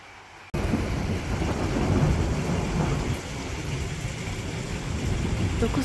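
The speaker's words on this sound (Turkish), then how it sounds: "Temmuz yağmuru aşırı sıcaktan sonra bir yağmur bastırdı" Steady July rain in Malatya pours down after an abrupt start following intense heat, a low rumble of thunder rolling beneath the downpour and fading slightly toward the end.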